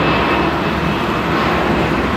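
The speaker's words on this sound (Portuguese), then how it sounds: "Tem um avião subindo, vou mostrar" An airplane climbs overhead, heard from a home balcony as a loud, steady broadband engine roar that fills the whole stretch without breaks.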